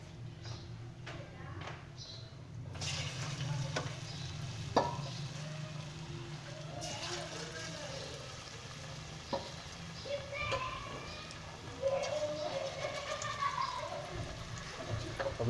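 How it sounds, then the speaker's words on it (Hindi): Gram flour pakoras frying in hot oil, a steady low sizzle with occasional stirring clinks and scrapes running throughout. "तो आइए नाज़रीन पकौड़े फ्राई करने स्टार्ट करते हैं।"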